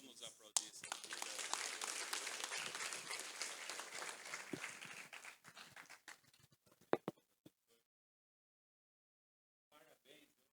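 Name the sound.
congregation applauding in church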